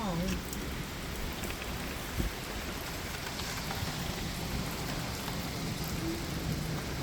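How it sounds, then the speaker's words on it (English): Heavy rain from a major supercell thunderstorm in Richmond Heights pours down in a steady, dense roar, with a brief low thump of thunder partway through. "This is a powerful storm."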